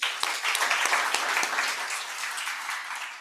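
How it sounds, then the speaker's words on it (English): An audience at a regional scientific conference for the African BioGenome Project applauds, a dense, steady wash of clapping that fills the room and slowly tapers off. "let's give them a round of applause."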